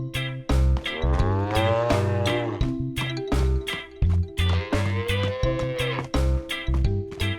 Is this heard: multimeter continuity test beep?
no